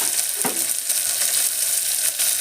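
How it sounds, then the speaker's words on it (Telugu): Onions sautéing in oil in a pan give a loud, even hiss of frying with a brief scrape of stirring, close and continuous with no voices. "ఇలా కాస్త ఉల్లిపాయ మరీ మనకు రెడ్ కలర్ రావాలి గోల్డ్ కలర్ రావాలి అలాంటిది ఏం లేదు కాస్త నూనెలు అలా మగ్గితే సరిపోతుంది"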